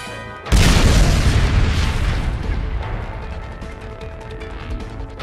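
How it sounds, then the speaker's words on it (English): A single huge fiery blast erupts suddenly after a brief quiet moment, Skuntank's combustible gas ignited by Arcanine's Fire Blast, its deep booming roar rumbling on and slowly fading over several seconds. "To be blasted off by explosion of your own gas."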